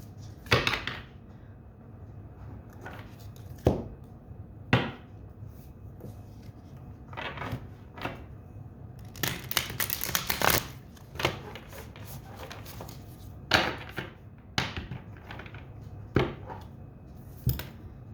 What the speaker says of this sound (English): Let me shuffle this deck.